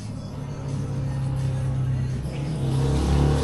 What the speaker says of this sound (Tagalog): Ito yung motor namin